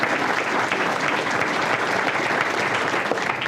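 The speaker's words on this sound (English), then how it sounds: "If you give him a round of applause." Audience applause at a police area command gathering in Summerlin marking a grand opening, a dense, even wash of clapping from many hands throughout.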